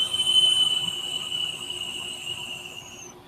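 A thin, steady high-pitched whistle comes from a Tugboat vape tank as air is drawn through it, continuous for a few seconds before fading, with no speech.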